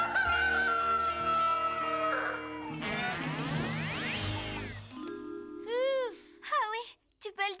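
A rooster crows in wavering, warbling calls amid other tonal sounds and chimes, with a voice present.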